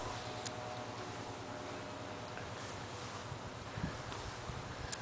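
Wind blows steadily across an outdoor yard, a constant low rush with soft gusting and rustling and a few faint ticks, with no talking heard.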